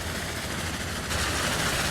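The giant Big Bertha train from the railway game Transport Fever 2 rolls along with a steady, loud, broadband rumble and low engine drone that holds constant and swells slightly partway through.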